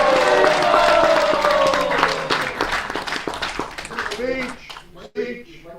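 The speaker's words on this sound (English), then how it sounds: "So if everybody could give a big round of applause for Vrishabhanu Das." Applause from a crowd at a temple celebration on Krishna Island in Ireland, clapping mixed with a voice over a sustained tone, thinning into scattered claps toward the close.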